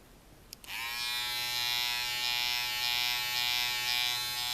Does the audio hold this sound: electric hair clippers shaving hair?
yes